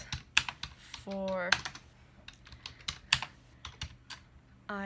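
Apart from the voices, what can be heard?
typing on a computer keyboard with one hand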